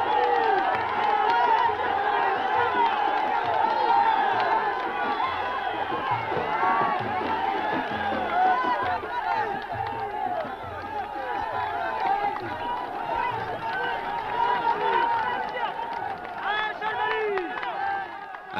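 A large crowd gathers at a festive rally during the Green March in open desert, making a dense, steady roar of many voices with shouts and chatter, loud and unbroken throughout.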